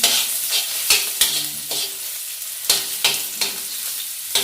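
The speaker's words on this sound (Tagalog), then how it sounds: "gigisa natin" Ingredients for laing sizzling in a hot pan, with steady frying hiss broken by regular scrapes and knocks of a spatula stirring, close and fairly loud, no talking.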